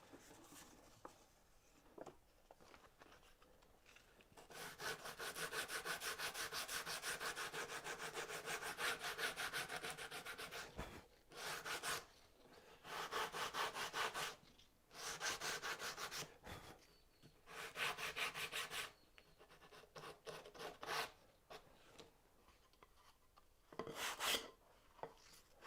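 Sandpaper rubs across a wooden drawer in close, rhythmic bursts: one long stretch of scratchy back-and-forth strokes, then several shorter passes separated by quiet gaps.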